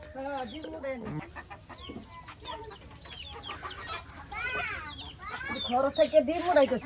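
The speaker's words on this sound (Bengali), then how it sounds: "জেডির সাথে কিন্তু মুরগি ঘুরতেছে" Hens cluck and chatter repeatedly nearby, with short squawks and rising calls growing busier toward the end; some faint voices murmur underneath.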